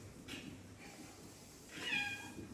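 A cat meows twice, a soft short call followed by a louder, drawn-out meow, close by in a quiet room with a faint hum behind.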